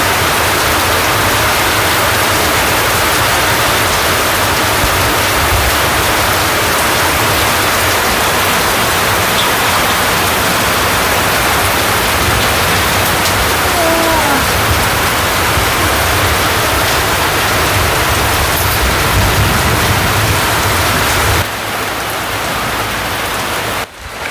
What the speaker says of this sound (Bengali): প্রচুর পরিমাণে বৃষ্টি হইতেছে বৃষ্টি বানছে দুই ঘন্টা যাবত